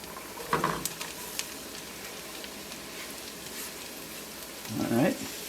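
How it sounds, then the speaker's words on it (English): Apples frying with onions in a pan give a steady soft sizzle, punctuated by a couple of scraping, clattering bursts as food is pushed in and stirred, close and without speech. "Lori's going to add the apples in with the onions."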